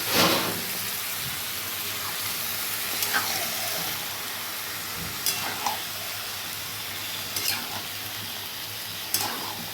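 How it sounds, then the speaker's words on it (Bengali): Chicken with onions frying in a pan, a steady close sizzle running throughout with a few brief scraping or stirring clicks. "এবার পেঁয়াজের সাথে একটা ফ্রাই হবে"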